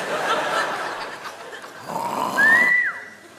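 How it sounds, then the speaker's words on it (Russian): A woman snores in drawn-out rasping breaths, one long snore followed by a rising whistling wheeze near the end, fairly close and loud with no talking. "Нет, ну ладно, она храпит."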